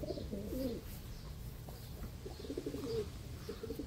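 Iranian pigeons coo in an aviary, a steady run of low, soft throaty calls repeating close by in two clear bursts, with faint chirps above them and no talking.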